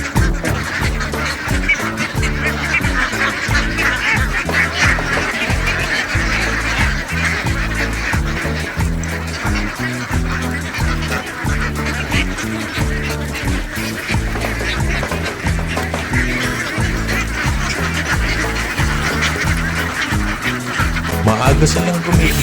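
Crowd of ducks at a duck farm in Pateros raising a loud, continuous din of overlapping quacks and honks, close and dense throughout with no break.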